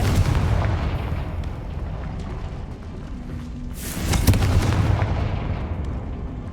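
Confringo fire-spell blasts in the wizarding video game Hogwarts Legacy, a dense run of booming explosive bursts with a loud flare near the middle, fighting Ashwinders in a game battle.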